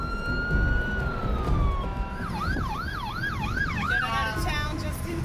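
Emergency sirens wail in rising and falling cycles over steady traffic rumble during the Fort McMurray wildfire in Canada, fairly close, with a second siren tone overlapping.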